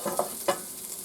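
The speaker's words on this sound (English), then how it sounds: "Little sausage patties are cooking away" Sausage patties sizzle in a pan while flour-thickened sausage gravy is stirred, with a soft steady frying hiss and two quick scraping stir strokes, close up and alone.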